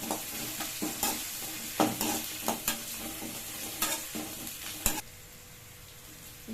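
Curry leaves hit lightly sautéed onions in a hot pan for a prawn and soya greens gravy, giving a steady sizzle broken by repeated stirring scrapes and utensil knocks, close and fairly loud before settling into a quieter fry.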